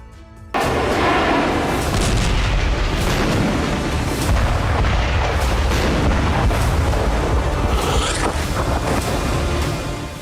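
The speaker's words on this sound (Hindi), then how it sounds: "आसमान से बम बरस रहे हैं" Bombardment of Gaza, with loud, continuous rumbling booms and blasts filling the air after a brief quiet start, heavy low thuds layered throughout.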